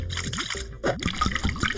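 Water poured into a cup to thin paint half and half for a beginner landscape painting, a short close trickle and splash with a brief gap partway through and no talking.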